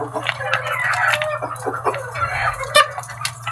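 Hens and a young stag in a backyard flock, clucking and calling in short bursts close by over a steady low hum, with scattered sharper peeps throughout.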